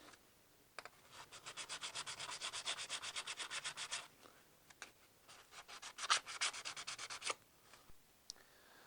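A spokeshave blade is rubbed clean before sharpening, producing rapid back-and-forth abrasive strokes in a steady rhythmic burst of about three seconds, then shorter bursts after a pause, close and moderately quiet.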